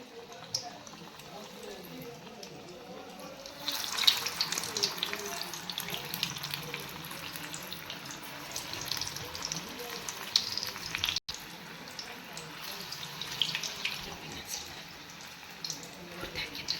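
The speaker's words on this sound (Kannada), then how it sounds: "ಈ ಥರ ಹಿಂಗೆ ಎಣ್ಣೆಯಲ್ಲಿ ಬಿಡಬೇಕು" Brinjal bonda fritters drop into hot oil and fry with a steady hiss and crackle that grows a little louder partway through, heard at close range.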